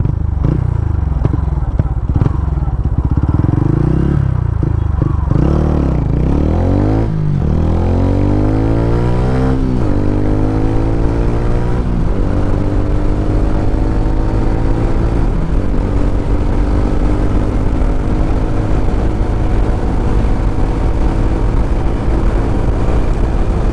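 A 2024 special edition TVS Ronin motorcycle engine revs loud and close, pitch climbing and dropping as it shifts up through the gears, with harmonic sweeps repeating under steady wind noise.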